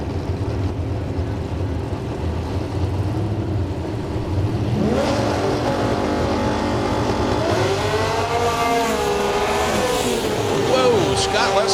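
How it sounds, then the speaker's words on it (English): Drag race cars, one powered by an inline six-cylinder Chevrolet, launch hard at a comp-class drag racing event, their engines rising in rapid revving sweeps over steady crowd and engine noise, with a commentator talking over them. "Scott lets the clutch out and the car goes hard right"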